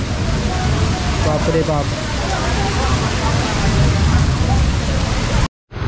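Heavy monsoon downpour and rushing runoff water in Konkan make a loud, steady roar, with a man's brief startled exclamation over the noise before it cuts out abruptly.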